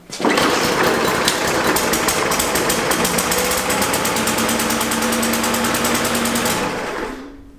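A lawn mower engine, just after a carburetor repair, catches almost at once and runs loud and steady with a fast rattling chatter for about seven seconds, then winds down and cuts out.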